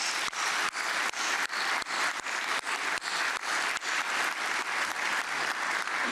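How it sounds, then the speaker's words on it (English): A large audience at a Service to America Medals ceremony claps steadily for government leaders, a dense, sustained patter of hands at full volume throughout, with no voices over it. "a round of applause for all of you"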